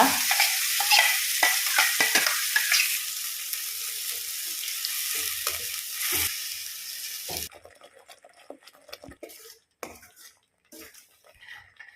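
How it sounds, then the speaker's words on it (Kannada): Ground masala drops into hot oil after an asafoetida tempering, hissing with a loud dense sizzle and spatter under stirring scrapes, then cutting off to quieter spoon and pan clinks. "ಈ ಗ್ರೈಂಡ್ ಮಾಡಿಟ್ಟಂಥ ಮಸಾಲೆಯನ್ನು ಹಾಕಿ ಸ್ವಲ್ಪ ಹೊತ್ತಿದ ಎಣ್ಣೆಯಲ್ಲಿ ಫ್ರೈ ಮಾಡುವ"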